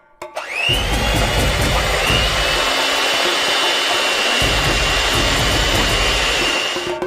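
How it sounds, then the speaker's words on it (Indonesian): An electric hand mixer whipping egg whites switches on with a quick rising whine, then runs as a loud, steady, high buzzing drone with a slight change in pitch partway through. "kita memutuskan untuk menggunakan mixer seperti ini, yang membuat semuanya menjadi lebih baik"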